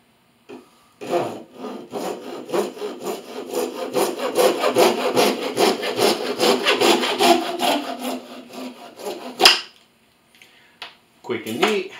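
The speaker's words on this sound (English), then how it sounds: "Come here with my pull saw, and that's where my cut will be." A Japanese-style pull saw cuts through wood in rapid, rasping strokes, a steady rhythmic scratch that builds for several seconds before stopping, followed by a few short handling knocks nearby.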